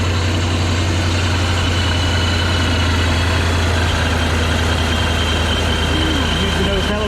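Cammed 5.7 Dodge R/T Hemi V8 fitted with a Procharger supercharger, running loud and close with a steady, lopey low idle rumble and no pauses.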